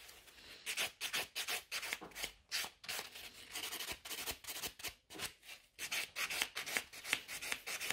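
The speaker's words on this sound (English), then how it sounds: "using the buffer, I'm just going to smooth them out" A nail buffer smooths sculpted tapered-square gel nail extensions built on forms, making close, repeated back-and-forth rubbing strokes in a steady rhythm.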